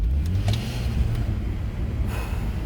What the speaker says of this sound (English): We'll just get a little tire spin for you just so you can hear it